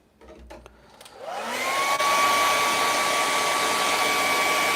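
A hair dryer drying a fresh acrylic painting spins up after a few faint clicks and then runs at a steady, loud whooshing roar with a constant motor whine.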